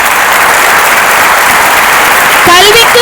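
An audience at a school annual day function claps to welcome a middle-school headmistress, a loud, dense, steady applause, with a voice breaking in over it near the end.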